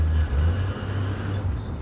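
A 1967 Chevy Camaro with a rebuilt Rochester carburetor and two-speed transmission downshifts while driving, a steady low engine drone with a brief dip in pitch, heard from inside the car with no talk.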